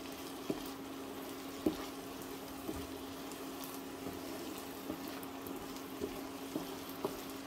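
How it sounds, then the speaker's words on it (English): Risotto rice sizzles in a pan as the stock cooks off, a faint continuous hiss with sparse small pops and a low steady hum underneath. "So I'm listening out for this rice singing."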